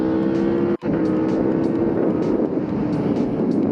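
A loud, continuous engine drone, steady and close, with a brief cut-out near the start before the roar resumes.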